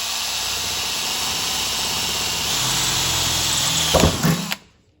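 A power drill runs with a drop of oil on the bit, boring into metal at light to medium pressure and about half throttle, a steady loud whine for over four seconds before winding down.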